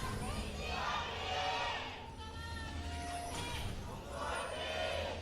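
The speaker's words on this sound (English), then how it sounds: "Couple of Kongdoo fans cheering." A small group of esports fans cheers at a League of Legends match between KT Rolster and Kongdoo Monster, a steady crowd roar rising and falling under commentators' talk.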